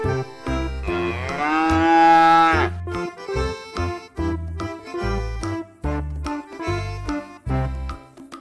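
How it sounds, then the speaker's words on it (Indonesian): An Australian calf, very white, moos loudly and close by: one long, rising bawl, followed by a string of shorter, rhythmic moos. "ada anak sapi teman-teman Anak sapi Australia, sangat putih"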